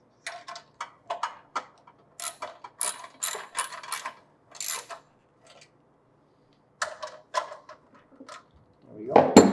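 Hand-tightening bolts in a diagonal pattern on a small 4-cycle engine, with scattered ratchet clicks and mechanical ticks in short bursts separated by pauses, close and moderately loud, with some handling noise at the end.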